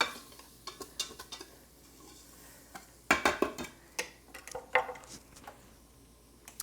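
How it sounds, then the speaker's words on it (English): Butter melting in a warm Instant Pot for cheese grits, with a soft steady sizzle beneath scattered clinks and scrapes of a utensil against the metal pot, close and fairly quiet. "we're gonna continue to let that butter, that tablespoon of butter melt in there."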